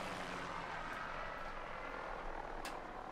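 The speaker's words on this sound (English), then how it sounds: "I love the sound of helicopters and planes when they fall from the sky." A helicopter goes down out of the sky in the video game Far Cry 6, giving a steady, loud rotor-and-engine roar that holds for the whole moment with no voices.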